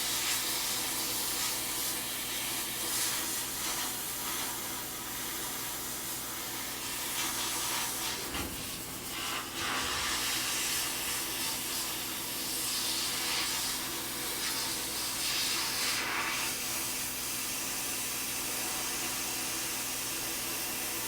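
Continuous loud hiss of a sandblaster blasting powder coat off a pair of pliers, a steady roaring air-and-grit stream with brief surges midway, no talking.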